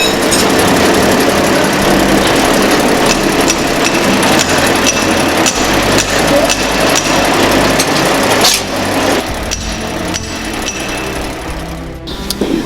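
A noodle making machine rolling dough gives a steady, loud mechanical rumble and clatter that runs without a break and eases slightly toward the end.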